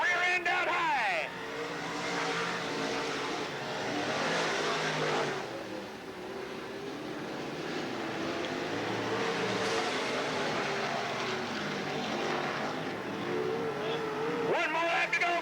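Sprint cars with rear wings race on a dirt oval speedway, engines snarling and whining as cars sweep past in waves, loud and continuous with pitch swells, under an announcer's steady commentary.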